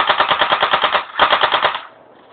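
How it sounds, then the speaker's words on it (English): Rapid bursts of gunfire from a handgun, two loud volleys of evenly spaced shots with a short pause between them, close and alone, then a faint echoing tail. "This is my gun. I like to shoot it."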